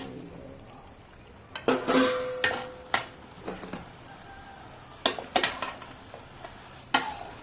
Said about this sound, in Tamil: 5 காடை போட்டு கிளறோம்.